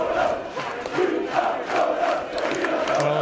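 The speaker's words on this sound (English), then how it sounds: "Well, I hope you're hearing the crowd." A rugby league crowd at the Workington Town vs Doncaster League One play-off final roars and cheers loudly and continuously, a dense wall of voices rising in swells with no clear commentary over it.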